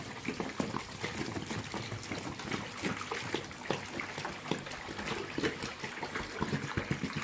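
Water poured into a crayfish tank with a black floor, a steady close splashing trickle running the whole time with small irregular bursts and no talk.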